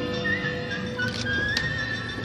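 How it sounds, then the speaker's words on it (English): Whistled melody from the dwarves scene on a Disneyland ride, a thin wavering tune over a busy ambient background with faint clattering. "as they whistle while they work"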